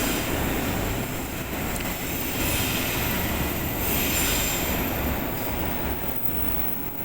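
Train passing close by with wheels squealing, a loud continuous rumble and metallic screech that stay strong throughout, with no voices.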